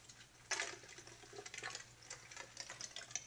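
Base solution poured through a funnel into a glass burette in a lab, giving faint trickling and light clinking, with a sharper splash or tap at the start and soft dribbles after.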